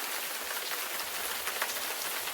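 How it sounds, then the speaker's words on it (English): Rain falling in the game Gemini Rue, a dense steady patter of drops on surfaces, fairly soft and even, with no voices. "The rain must be interfering with the terminal."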